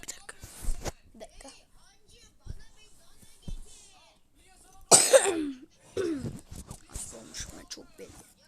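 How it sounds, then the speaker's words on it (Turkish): Several harsh coughs and throat-clearing sounds break up quiet stretches, close to the listener, with a voice speaking between them. "Hasta mı oldum bilmiyorum ben de öksürüp öksürüp duruyorum."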